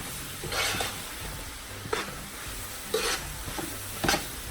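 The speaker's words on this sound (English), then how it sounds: "So what you do now, you now stir it together." Nigerian fried rice being stirred in a sizzling pan, with a steady frying hiss broken by four evenly spaced scraping stirs, no voices.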